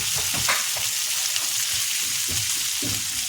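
Pieces of taro (arbi) fry dry with garam masala and spices in a pan, giving a steady close sizzle broken by soft scraping stirs at an uneven pace.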